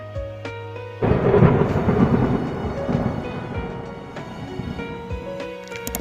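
Thunderstorm with rain: a sudden loud thunder crack about a second in, rolling into a long rumble over steady rainfall that fades slowly.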